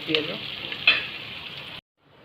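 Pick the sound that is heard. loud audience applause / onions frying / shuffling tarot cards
onions frying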